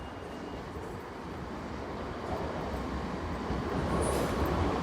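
A train nears the Lincoln High Street level crossing, a steady broadband rumble that grows gradually louder as it approaches, with no talking.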